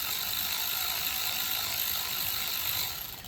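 A ratchet spins off a 1/4 inch nut connecting the throttle shaft to the carburetor on a Craftsman push mower, a fast, continuous close clicking whir that fades slightly at the end.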